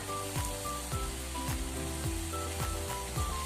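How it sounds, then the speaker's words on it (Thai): Shrimp with red chili and sliced celery stir-fried in a wok, a steady close sizzle with a repeated scrape of the utensil about every half second, alone with no voices. "แล้วก็ผัดให้ทุกอย่างเข้ากันอีกรอบ"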